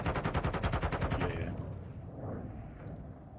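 Rapid automatic gunfire from a gun in a video game rattles out in a loud, fast burst for about a second and a half, then trails off into echoing rumble and softer distant shots.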